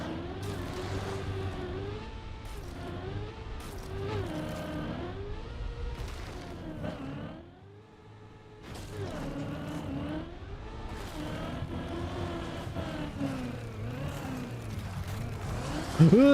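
A car engine in the Trackmania video game on an icy tower course hums and revs in repeated surges, with a brief dip partway through, then climbs again to a steady drone.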